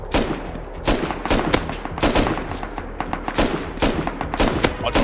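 Automatic AK rifle fire in the survival game Rust, loud bursts of rapid shots repeating across the whole stretch with short gaps between volleys.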